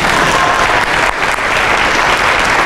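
Sustained applause from an audience at an entrepreneurs' graduation ceremony, steady and fairly loud clapping filling the whole stretch without voices.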